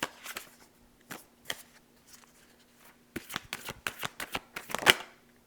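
Reading cards shuffled by hand, quiet crisp riffling bursts in an irregular rhythm with pauses, then a denser run of snaps toward the end, close and alone.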